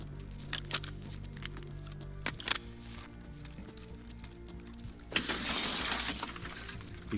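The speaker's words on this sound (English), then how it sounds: "Continue through where we will need to break the glass to get through." In the Escape from Tarkov game, a glass pane in an office gets smashed: a sharp, bright shatter rings out, followed by a rattling spray of falling shards, after a stretch of quieter clicks and low background hum.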